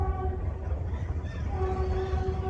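A metre gauge train rolls between Junagadh and Sasan Gir, its steady low rumble filling the short stretch with a sustained horn-like tone held over the running noise, close and continuous.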